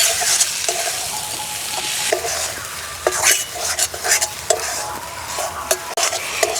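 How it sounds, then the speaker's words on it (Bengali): Shrimp and flat beans in a curry with turmeric are stirred in a frying pan. A steady broadband sizzle runs throughout, broken by repeated scraping and clinking strokes of a spatula against the pan at close range, with no talking. "2 থেকে 3 মিনিট নেড়ে নিলেই হয়ে যাবে।"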